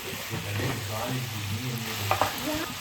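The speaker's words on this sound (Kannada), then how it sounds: "ಇದನ್ನು ಹಾಕಿ ಚೆನ್ನಾಗಿ ಫ್ರೈ ಮಾಡ್ಕೋಬೇಕು ಫ್ರೆಂಡ್ಸ್ ಎರಡು ನಿಮಿಷ ಆದ್ರೂ ಇದನ್ನು ಅದೇ ಮಸಾಲದಲ್ಲಿ ಚೆನ್ನಾಗಿ ಫ್ರೈ ಮಾಡ್ಕೊಳ್ಳಿ" Chicken pieces frying in a pan of chicken masala while being stirred, a steady close sizzle with a low rumble and a couple of sharp scrape knocks near the end.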